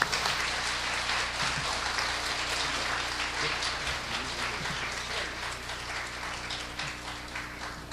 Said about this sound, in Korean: 우리 사랑과 감사의 마음 담아서 우리 조정민 목사님 나오실 때 큰 박수로 화답하겠습니다